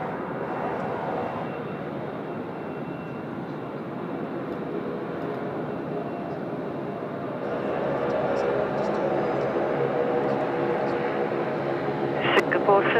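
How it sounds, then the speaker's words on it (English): Qantas 81 airliner rolling for takeoff on runway 34 left at Sydney Airport, a steady distant engine roar that swells partway through, heard beneath talking. "Qantas 81 just about to roll now, runway 34 left as well."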